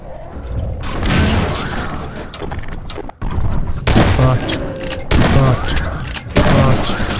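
Heavy gunfire in Half-Life 2 Episode 2, with loud close bursts of rapid shots, mechanical clatter and booming impacts that pause briefly before starting up again.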